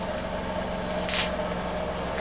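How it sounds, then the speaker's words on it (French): Steady mechanical rumble and hum of a washing machine spinning, continuous and fairly even, with a faint higher whir drifting in and out. "Alors désolé pour le bruit, hein, c'est la machine à laver qui sort."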